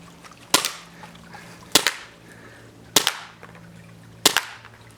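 A Novritsch SSP-18 airsoft pistol fires four sharp, snappy shots, evenly spaced about a second apart, each a crisp crack with a quick rattling tail against a quiet background hum.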